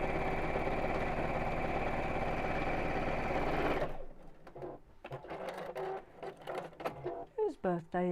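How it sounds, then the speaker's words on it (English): A sewing machine stitching a seam through several fabric layers, a steady loud mechanical whir for about four seconds that then stops, followed by a person talking nearby. "let's sew down here, just to make sure I'm getting all the layers included in the seam"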